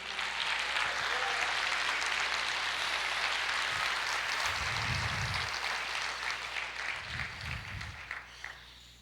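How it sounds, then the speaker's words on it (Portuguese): A congregation claps in church, a broad sustained wash of applause filling the clip at steady loudness, with low rumbling bumps beneath and a slight tapering at the end. "Você pode aplaudir o Senhor."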